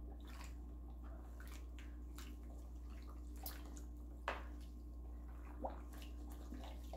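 A mask is washed in water, with soft splashing and sloshing under a steady low hum, broken by a few brief drips and sharper splashes.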